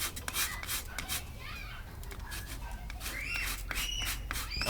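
A cheese grater scrapes fatwood into fluffy tinder outdoors with repeated close rasping strokes, scratchy and uneven, with a person talking over them and faint chirps in the background.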